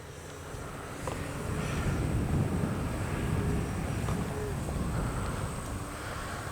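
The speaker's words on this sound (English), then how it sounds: "Simple flying plane." An H-King Flybeam 2 RC plane flies at night, giving a steady, fairly loud broadband whir and rush of motor and wind that holds constant for several seconds with no talking.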